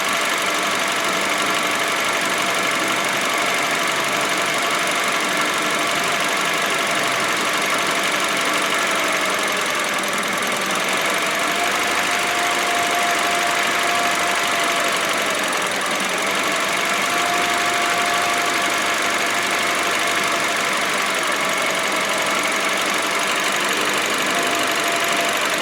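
A Honda Civic engine idles with a steady mechanical hum and a faint whine, then its speed dips slightly as if about to stall, before recovering. The sound is continuous and close, with no talk.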